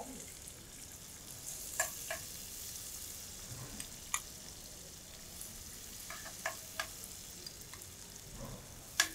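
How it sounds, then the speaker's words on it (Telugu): Onions frying in hot oil with whole garam masala, a soft steady sizzle broken by occasional light clinks and stirring sounds, close and fairly quiet with no talking. "మంచిగా బ్రౌన్ కలర్ వరకు ఉల్లిపాయలు వేగాలండి"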